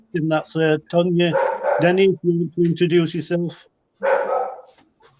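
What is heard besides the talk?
dog barking in the background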